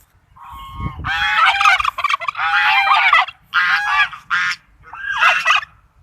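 Geese and junglefowl calling close by, a string of loud, harsh honking and crowing bursts separated by short pauses, with no talk over them.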